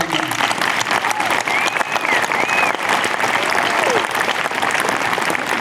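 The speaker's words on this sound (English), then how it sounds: "And thank you all for giving Dan a big round of applause." Audience applause at a Memorial Day 2021 ceremony, steady dense clapping from a crowd sustained throughout, loud and continuous with a few faint voices mixed in.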